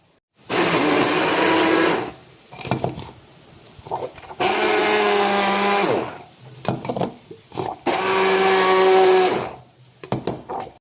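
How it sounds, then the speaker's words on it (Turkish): An electric blender whirs through a morning drink of oats, yogurt, mint, parsley and avocado in three loud, close bursts of about two seconds each, with short pauses of clattering and handling between them. "Her sabah hazırladığım yulaf, yoğurt, nane, maydanoz Avokadoyu karıştırıyorum böyle içiyorum."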